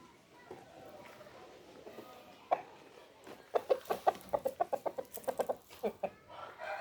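A Brazilian-breed rooster clucks in a quick run of sharp, fairly close calls after a stretch of low voices and background noise.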